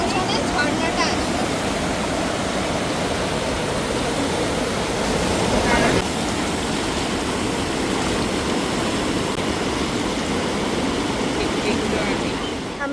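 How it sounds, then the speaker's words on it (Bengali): A waterfall in the Dooars jungle, heard from a distance behind the listener, gives off a constant, dense roar of falling water that stays steady and loud throughout, with no clear voices over it. "দূর থেকে পেছনে ঝর্ণাটা আসছে"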